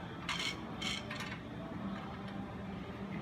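Knob-headed screws being turned into the metal frame of an 8' x 8' banner stand, with a few short ratcheting, scraping clicks near the start, then a quieter mechanical rasp.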